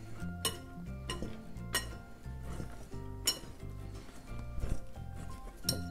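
Dried cranberries and pistachios stirred into a biscotti mixture, giving repeated clinks and scrapes of a utensil against a bowl at an uneven rhythm, close and fairly loud, over a steady musical background.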